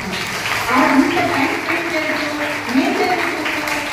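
Children at a Sri Satya Sai BalaVikas students' plant distribution event clap together in a sustained burst of applause lasting several seconds, with voices mixed in beneath the clapping.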